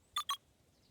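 Two quick electronic keypad beeps as letters are entered in the video game Beacon Pines, short bright tones close together, then near silence.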